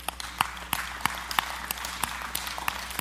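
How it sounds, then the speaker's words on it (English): A church audience claps in a quick, fairly even rhythm, sharp individual claps repeating about three times a second over a low steady hum, with no speech. "I know you're clapping"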